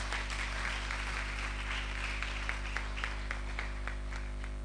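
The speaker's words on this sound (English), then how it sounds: "Another round of applause for her, please." Distant applause from an audience at a girls' STEM camp opening ceremony, a soft continuous patter of clapping over a low steady hum.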